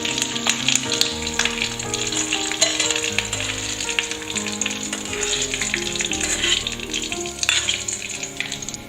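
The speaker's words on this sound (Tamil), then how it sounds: "இப்போ இந்த தாளிப்பை நம்ம சட்னியோட சேர்த்துடலாம்." Curry leaves and dried red chili crackle in hot oil as the tempering is poured into Udupi-style peanut chutney, a loud, dense sizzle with sharp pops running steadily throughout.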